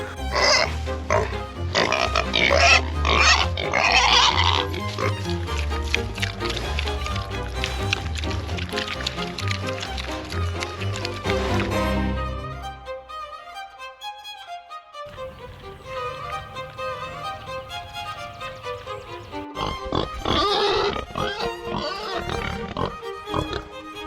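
Three feeder pigs grunt and oink up close, with wet squishy snuffling and movement, then a quieter stretch before more grunting returns.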